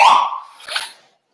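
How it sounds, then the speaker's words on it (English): A home alarm sounds loudly and close, a bright electronic tone that fades within about a second, followed by a second weaker burst and then near silence. "Our alarm is going off, so I need to go and switch it off."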